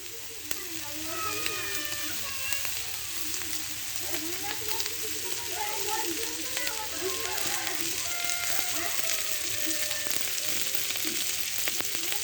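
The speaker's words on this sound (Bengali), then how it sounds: "এই মাছটা একটু শক্ত শক্ত ভেজে নিতে হয়" Titul fish fries in white oil in a pan, giving a steady close sizzle with scattered pops and crackles that continues throughout, with no voices over it.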